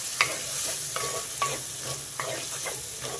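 Chopped tomatoes sizzling in fried masala as a spoon stirs them, a steady hiss of frying broken by several sharp scrapes and knocks against the pan at irregular intervals, close and moderately loud.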